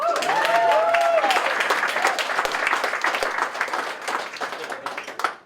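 Audience applause at a stand-up comedy show breaks out loud and dense, with brief vocal whoops over it at the start, then thins and tapers off toward the end.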